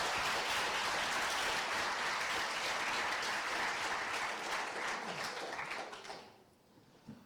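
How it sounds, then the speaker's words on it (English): An audience claps at a high school summer science and technology institute's final presentations, a steady wash of applause that tapers off and stops near the end. "Give him a round of applause, everybody."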